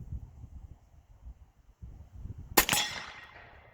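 A suppressed .458 SOCOM rifle fires a single supersonic round outdoors, a sharp loud crack with a short ringing tail after a stretch of wind and rustling.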